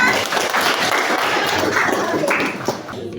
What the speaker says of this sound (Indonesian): terima kasih tepuk tangan dulu ya